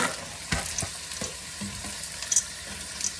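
No-bake ziti ingredients being stirred together in a pan, with soft wet scrapes and clunks of a utensil over a steady faint sizzle, close up and without speech.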